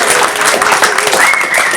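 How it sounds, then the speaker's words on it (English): A tribute gathering at a venue for poet Shelton Lea fills with dense, loud audience applause, a continuous wash of many hands clapping close by, with a thin whistle rising over it. "Can I get a round of applause for Joe and the entire venue"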